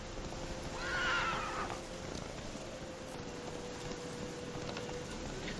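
Roach, Geralt's horse in The Witcher 3, gives a loud whinny near the start, then a steady ambient bed with faint hoof clopping continues alone with no talk.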